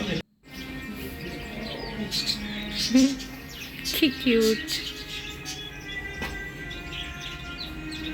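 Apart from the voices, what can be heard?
small birds chirping at a market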